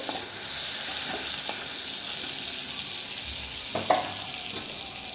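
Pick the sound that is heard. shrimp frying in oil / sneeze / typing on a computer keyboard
shrimp frying in oil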